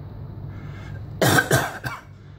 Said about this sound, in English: there really is a nagging cough in this city